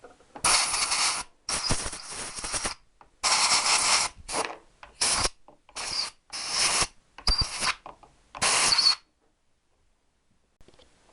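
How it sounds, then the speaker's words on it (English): Compressed air blasts out the holes in Triumph T120R motorcycle engine parts, about eight loud hissing bursts of a second or less separated by short gaps, close to the mic, then silence. "Again, blow all the holes out."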